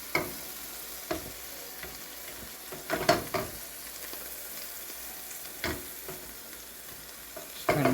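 Butter sizzles in a frying pan under a Dollar Tree ribeye steak, a steady crackling hiss broken by a few louder scraping stirs as the butter is pushed around.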